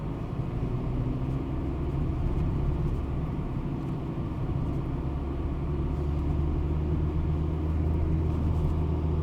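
Car interior during a driving lesson, with a steady low engine and road rumble that holds fairly even and loud throughout, no clear rise in pitch, and no talking.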